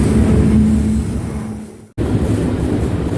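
A BNSF train rolling along the Southern TransCon between Needles, California and Winslow, Arizona, a loud steady rumble of rail cars with a faint tonal hum, cut by a sudden brief dropout before the noise resumes.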